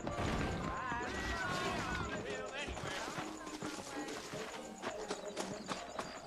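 Saddled horses in the Western video game Red Dead Redemption clop along steadily, their hoof beats running continuously beneath a layer of game dialogue and background sound.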